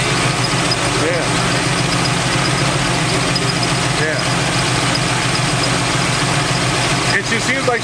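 A cammed Chevy C10 truck engine idles with a loud, steady, lumpy rumble, close by, while people talk over it.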